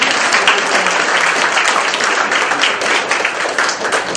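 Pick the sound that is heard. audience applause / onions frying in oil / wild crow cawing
audience applause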